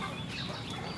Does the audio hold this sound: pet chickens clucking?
yes